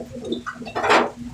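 A racing pigeon arrives at the loft after a 60 km fun race from Hinungan, Southern Leyte, with a soft coo followed by a brief burst of flapping wings nearby.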